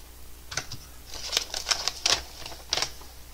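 A package being ripped open while unboxing a giveaway prize: a quick series of short, sharp tearing bursts at close range, with no talking.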